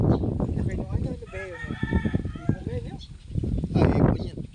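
A rooster crows out in the open near a rice field, a clear drawn-out call in the middle of the stretch, with people talking around it.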